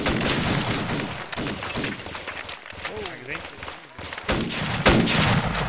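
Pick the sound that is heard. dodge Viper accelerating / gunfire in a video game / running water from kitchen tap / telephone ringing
gunfire in a video game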